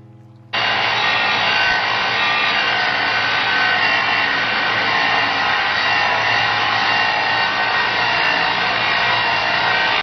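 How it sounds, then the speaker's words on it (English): A mower blade is ground on a power grinder to sharpen it, a loud steady abrasive whine that starts abruptly after half a second and holds unbroken to the end. "You just want to keep grinding until those ridges come out."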